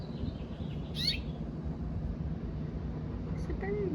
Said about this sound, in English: It's a bird. The bird is so close.